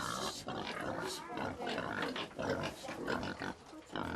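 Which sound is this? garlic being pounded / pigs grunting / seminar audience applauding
pigs grunting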